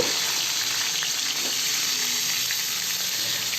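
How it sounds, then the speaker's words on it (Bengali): Cauliflower frying in oil in a wok gives a steady, close, continuous sizzle and hiss that runs unbroken throughout, with no voices. "এবার আমি কপিটা হালকা করে ভেজে নেব"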